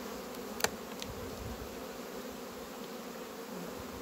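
Honey bees drone at a small colony's hive, a steady close buzzing that fills the whole stretch, broken by a couple of faint clicks or taps early on.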